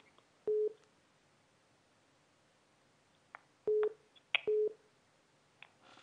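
Short electronic telephone line tones during an incoming call to a broadcast, three steady beeps spaced apart against a quiet background with faint clicks.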